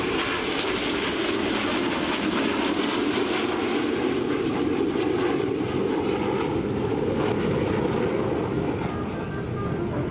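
Red Arrows jets perform at the 2015 Sanicole Air Show, and a broad, steady engine roar from aircraft passing at a distance fills the whole stretch with open-air noise.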